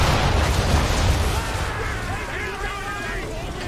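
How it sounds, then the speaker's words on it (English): Swivel gun fire from a sailing ship in Assassin's Creed III, booming blasts with rumbling low end near the start that fade into a steadier roar of battle noise, with voices mixed in. "Use the swivel fire!"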